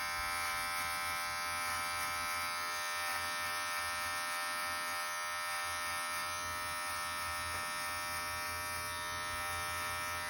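Electric hair clippers buzz steadily while cutting and blending a man's hair, a constant close whine holding level throughout with no talking.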